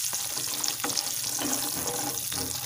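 Pointed gourd pieces sizzle in a pan with turmeric and salt as they are stirred, a steady close frying hiss with soft scraping movements.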